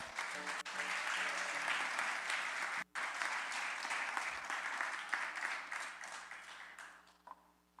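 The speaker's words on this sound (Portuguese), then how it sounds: "Você pode aplaudir ao nome do Senhor?" Church congregation applauding during a sermon, dense sustained clapping that fills the room, broken by a brief dropout near the middle and tapering off toward the end.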